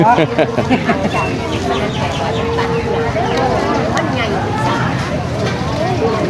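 Chickens cluck and squawk at the Don Tan municipal evening market amid a loud, steady crowd of people talking nearby, the clucking partly buried in the chatter.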